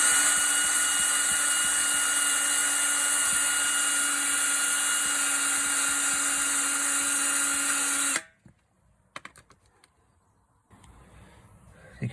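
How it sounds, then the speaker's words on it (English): A power drill spins a small ball-ended bit against rubber, roughing it up, giving a steady high whine for about eight seconds before stopping, then a few faint clicks and handling sounds. "I'm going to use this little ball ended thing in my drill to just rough up the rubber on the inside so the glue can key"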